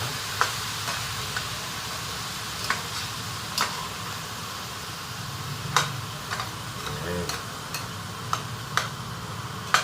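Food sizzles steadily in a frying pan while a utensil stirs it, with scattered sharp scrapes and taps against the pan over a constant hissing fry, close up and with no talking.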